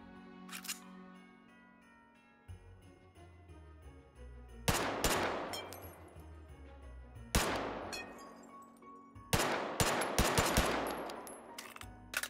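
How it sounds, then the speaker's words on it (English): Guns fire inside the VR game Hot Dogs, Horseshoes & Hand Grenades, with single shots, then dense bursts of loud, echoing gunfire and clattering mechanical clicks and ringing tones in between. "let's shoot these guns off"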